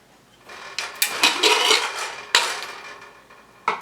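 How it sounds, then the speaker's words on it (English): A pressure cooker lid being twisted open and lifted after the pressure is released in a home kitchen, giving a few close metallic clanks and scrapes with a brief hiss-like rush of noise between them. "open the pressure cooker"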